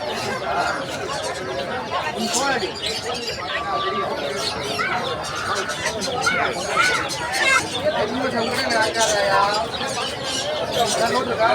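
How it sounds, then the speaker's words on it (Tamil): Pigeons coo and other birds call amid a busy outdoor market in Ponmalai, with crowd babble and people talking close by throughout. "புறா பாருங்க, புறா அழகா இருக்கு பாருங்க."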